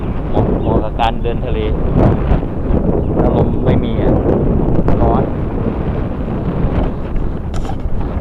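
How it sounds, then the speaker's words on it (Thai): Wind buffets a microphone at a seaside mangrove forest, a steady, loud rumbling gust throughout, with people talking over it. "ลมมาแล้วลมเย็น"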